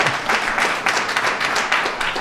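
At a groundbreaking ceremony for 79 W. Monroe in Chicago, a crowd breaks into brief, dense applause, a steady patter of many hands clapping close by.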